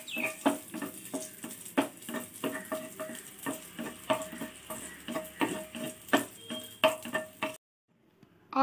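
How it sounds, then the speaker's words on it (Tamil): Raisins roasting in a pan for rava kesari, a steady run of light taps and scrapes with a soft sizzle beneath, close and even, ending in a brief silence. "இப்போ வந்து நம்ம ட்ரை கிரேப்ஸை வறுத்திடலாம்."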